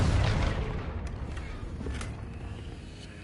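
Confringo blasting spell going off in Hogwarts Legacy, a deep booming explosion at the start that rumbles and fades over a few seconds, with faint crackling bursts after it.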